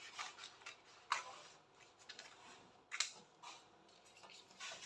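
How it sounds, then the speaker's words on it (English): Scissors cutting a gown fabric pattern for an asymmetric illusion couture dinner gown: quiet, close rubbing and crisp snips, with two sharper cuts standing out against a faint background. "So I'm going to cut right now."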